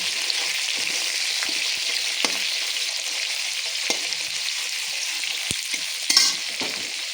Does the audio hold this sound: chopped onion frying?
yes